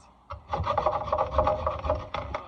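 A bar of soap is grated on the small side of a grater by a sink for homemade laundry soap, with a quick run of rough, rasping scrapes, close and fairly loud, after a brief quiet start.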